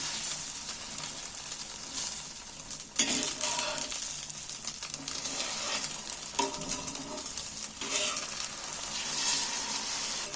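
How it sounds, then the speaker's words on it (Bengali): An egg and gram flour mixture frying in a pan is rolled and flipped, a continuous loud sizzle broken by a few sharp scrapes and surges as the roll is turned, with no talking. "এবার আমি ডিমটাকে রোলের মতো করে উল্টিয়ে দিচ্ছি"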